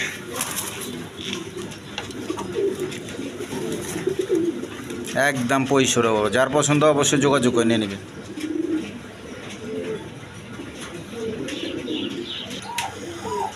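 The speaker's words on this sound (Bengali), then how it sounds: "একদম বিগ সাইজের কবুতর" Big-sized pigeons, a male and female pair kept for sale, coo softly in the background while someone talks almost continuously over them.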